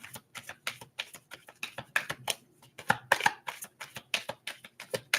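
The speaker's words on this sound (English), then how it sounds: "Let me continue to shuffle." A deck of cards is shuffled by hand in a quiet room, giving rapid, crisp riffling bursts in an uneven rhythm, close and moderately soft, with no talk.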